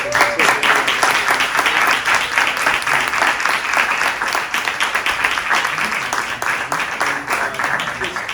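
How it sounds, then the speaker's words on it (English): An audience in a cinema applauding after a post-film Q&A, a loud, sustained wash of clapping from a sizable crowd that continues evenly throughout. "let's give them a huge round of applause"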